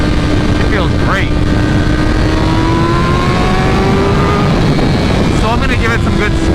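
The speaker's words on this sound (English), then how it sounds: "I'm gonna give it some good sweeps to the high end of the RPM on different loads" A 2023 BMW M1000RR motorcycle engine revs hard toward high RPM, loud and close, with rising and falling sweeps that dominate the recording.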